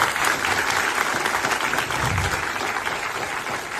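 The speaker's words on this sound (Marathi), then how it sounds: "एकदा टाळ्या वाजून अभिनंदन करूया." A theatre audience at a Marathi play claps together in dense, continuous applause that stays fairly even for a few seconds, with no voices rising above it.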